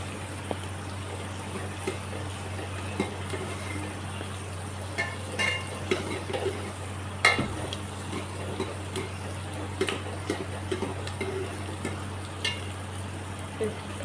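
Cumin seeds fry in a pan while a spoon stirs them for a home-cooked bottle gourd curry, with a soft, steady sizzle, faint scrapes and light ticks, and no talking.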